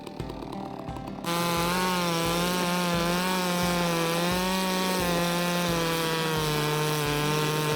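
Chainsaw cutting a tree in Farming Simulator 17, a game forestry job: after a quiet second the engine roars up and holds a loud, steady, buzzing whine with a rhythmic pulsing underneath.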